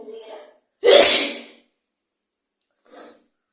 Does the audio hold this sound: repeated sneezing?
yes